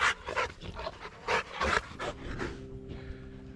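Excited dogs pant hard and quickly at close range, with bursts of breathing and scuffling as they jump, and a faint yip or whimper near the end.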